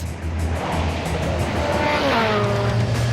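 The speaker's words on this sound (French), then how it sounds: "Ils ont eu à peine le temps de voir passer la moto." A speeding motorcycle races past gendarmes during a roadside speed check, a loud continuous engine roar with a rising and falling pitch sweep as it closes in and passes, steady and close throughout.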